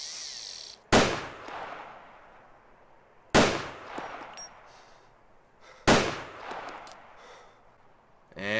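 Three loud, close rifle gunshots in the DayZ video game, spaced a few seconds apart, each a sharp crack trailing into a long echoing decay, with no talk.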